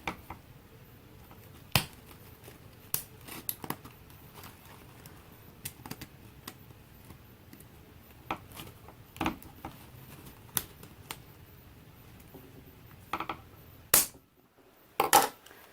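Scissors snip through faux flower stems in sparse, sharp clicks scattered across a quiet stretch, some isolated and a few in quick pairs, ending with a louder cluster of cuts.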